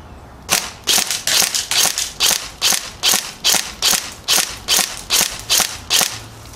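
An airsoft gun fires 0.25 g BioBalls BBs on semi-auto, about fourteen sharp, close, evenly spaced snapping shots in a quick steady rhythm, with no speech.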